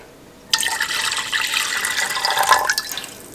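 A cup of apple cider vinegar is poured into a pot for pickling radishes, a bright steady splashing stream that starts abruptly and runs for about three seconds, fairly loud and close, with no talk.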